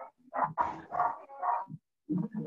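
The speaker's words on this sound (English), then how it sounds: "Yes, there is one dog barking." One dog barks in a short run of four or five close, loud yips and woofs, pauses briefly, then adds two more barks.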